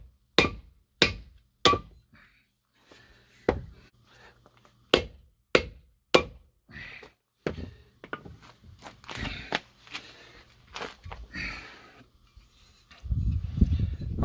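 Sharp wooden knocks as a section of ash or hickory sledgehammer handle drives wheel studs out of a Ford F-150 4x4 hub, a dozen or so close, hard strikes spaced irregularly, with some scraping and clatter between them.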